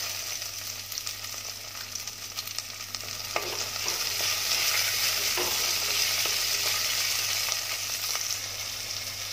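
Chopped tomato sautés in a pan for karpooravalli leaf soup, a steady soft sizzle with occasional stirring scrapes, fairly quiet and unbroken by talk.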